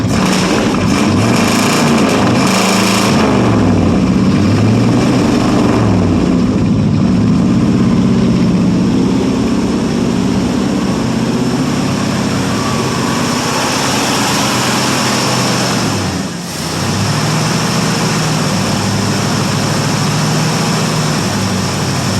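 A 1967 Ford LTD two-door's 390 FE V8, restarted cold after sitting twelve years, runs loud and continuous with a rough, uneven idle and surging revs, and briefly dips near the end.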